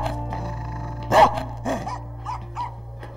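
A dog lets out one fairly loud bark followed by a few softer, shorter woofs or grumbles over a steady low hum in the background.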